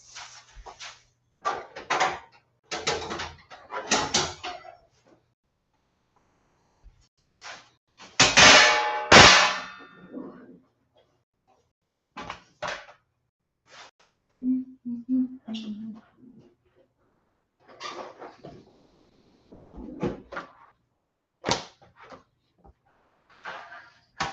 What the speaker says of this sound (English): I'm going to get out a baking tray and 2 of my silicone mold baking sheets.